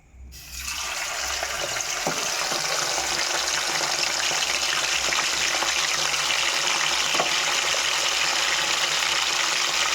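Boiled chicken hits hot oil for chicken pickle and sets off a loud, steady sizzle that swells within a second and roars on evenly, alone without talk.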